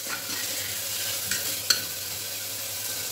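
Chickpea masala stirred in a frying pan, a continuous soft sizzle with a couple of short scraping strokes and a small clink from the utensil, close and moderate, with no talking.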